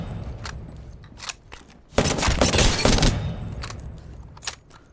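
Prowler gun in Apex Legends firing full auto, a dense sustained burst of rapid shots in the middle, flanked by scattered single cracks and footsteps-like clatter.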